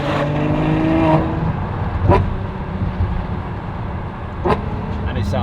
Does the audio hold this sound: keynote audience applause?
no